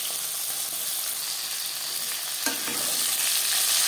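Tilapia fish frying in oil in a pan, a steady bright sizzle with a brief clatter midway as the fish is stirred or turned, close and continuous.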